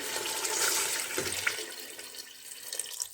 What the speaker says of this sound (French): Là, j'ai mis à peu près 1 litre d'eau.